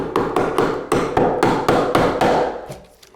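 Linesman pliers used as a makeshift hammer during electrical box work in a renovated church, striking about ten sharp, regular taps close up, each with a short ringing decay, fading at the end.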